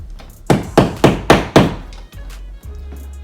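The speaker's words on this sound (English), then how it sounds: "You can use the back of the screwdriver like this and get it in, or you get something to tap." Five sharp, evenly spaced thunks come from the back of a screwdriver tapping a plastic wall plug into a wall during a thermostat installation, close and loud, followed by a couple of softer handling sounds.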